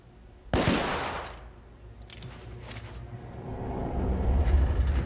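A single loud gunshot from a gun in The Order 1886, sharp and close, followed by fainter clicks and a swelling low rumble of background engine-like noise.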